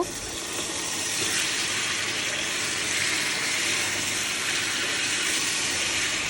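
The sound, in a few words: water poured into pan of chicken and potato curry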